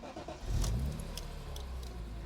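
A BMW M3 E46 coupe with the SMG II gearbox fires up, a brief starter catch swelling into a loud engine burst that settles into a steady, raspy idle close by.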